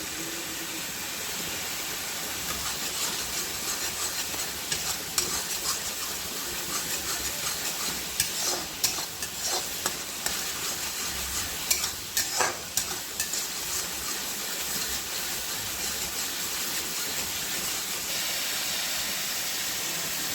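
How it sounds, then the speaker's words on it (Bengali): Thick onion and tomato paste masala fries in hot oil for a fish curry, a steady broadband sizzle running throughout with scattered scraping stir strokes in the middle stretch, close and fairly loud, no voices. "এবার মশলাটা আমি ভালো করে কষে নিই।"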